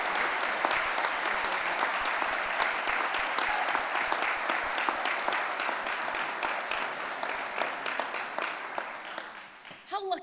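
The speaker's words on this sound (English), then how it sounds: "I want you to give her a rousing round of applause" A large audience gives a rousing round of applause for someone at a campus event, thick sustained clapping that thins and fades toward the end as a voice begins.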